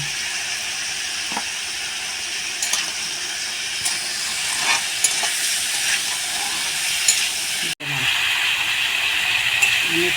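Potatoes sautéing with turmeric and salt in a pan, a steady close sizzle with occasional stirring scrapes and a brief break near the end before the frying resumes.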